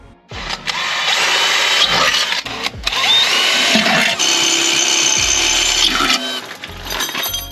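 A loud power drill whirs steadily for several seconds, with brief pauses where the motor stops and restarts, boring bracket holes at close range for a wheel ring light install on a Jeep Gladiator JT.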